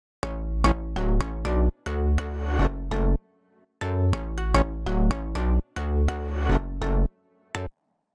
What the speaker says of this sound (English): So the synths on their own sound like this.